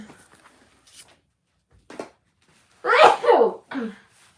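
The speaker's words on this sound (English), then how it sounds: "I have to sneeze." A sharp, loud sneeze bursts out up close, followed by a shorter trailing breath, after a few faint sniffs and quiet breaths.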